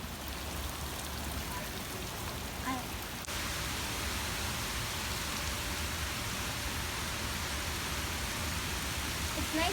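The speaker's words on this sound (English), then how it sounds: "It's nice to listen to rain" Steady rain falls outdoors during a rainy day with tornado warnings, pattering on surfaces and water as an even, dense wash of noise that continues throughout, with no talk.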